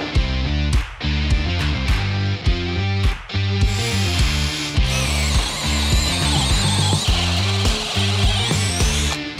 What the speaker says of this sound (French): on installe des forêts sur la perceuse et on va voir ce que ça donne